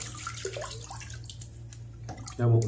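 Tap water runs while a Feather AC shavette razor is rinsed at a sink, a steady splashing flow that swells louder near the end.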